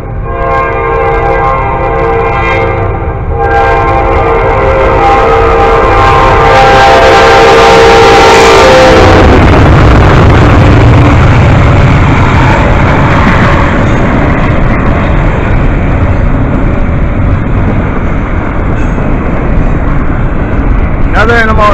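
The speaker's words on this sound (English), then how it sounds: "here comes another train" A loud train horn blares with sustained tones, then the heavy rumble and clatter of a long intermodal freight train rolling past close by.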